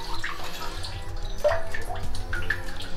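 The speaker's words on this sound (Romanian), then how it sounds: "Da, să punem niște apă acum" Water is poured into a concrete mix, making a steady, close splashing and trickling with some scattered drips and low background rumble.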